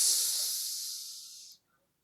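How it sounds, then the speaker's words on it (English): Steam jets hissing from the sides of a hallway, a loud, close, steady hiss that fades gradually and cuts off after about a second and a half, then silence. "You see small jets of steam usher from the sides of the hallway"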